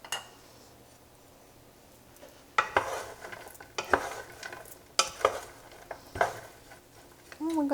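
Peppers, bamboo shoots and carrots cook in a pan for a vegetarian curry, with a soft sizzle broken by sharp scraping and clacking of a utensil stirring against the pan, and a brief voice at the end.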